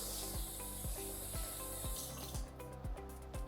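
Water runs steadily from a tap while a plastic urine measuring container is rinsed, with a few soft knocks and rubs against the sink, close and fairly quiet, no talk.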